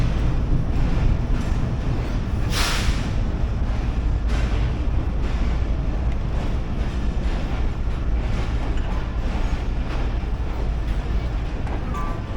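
A passenger train pulls away from a station platform in Pakistan, a steady low rumble of wheels and rolling stock that stays loud and continuous throughout, with a brief brighter hiss of brakes or air partway through.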